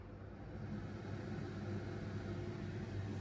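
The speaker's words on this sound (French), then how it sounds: "ça c'est le bruit de la air fryer" A Philips Dual Basket 9L air fryer runs in a kitchen, a steady low fan whir and rumble that stays even throughout, heard alone at low level.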